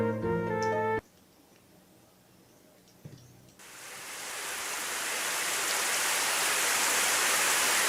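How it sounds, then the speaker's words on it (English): Rain from the visual novel Narcissu starts after a short piano phrase and a quiet pause, then settles into a steady, full hiss of rainfall that swells gradually and keeps falling. "Suddenly it started raining."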